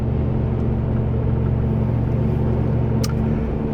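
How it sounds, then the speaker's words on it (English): Atturo Trailblade X/T tires on a 2006 Ford F-150 at about 43 mph produce a constant low cabin rumble and hum with a steady tonal whine, loud and unbroken, one faint click near the end. "So I'm gonna kind of address the road noise. So I'm gonna listen to these tires for a second."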